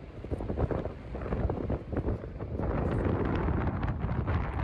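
Strong gusts of wind buffet a cellphone microphone outdoors at the Southampton port beside the Queen Mary 2 cruise ship, producing a loud, continuous roaring rumble with no voices.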